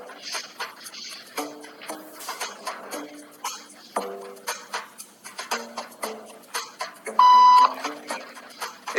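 A single clear electronic beep rings out near the end, steady and bright, over scattered quiet clicks and background movement.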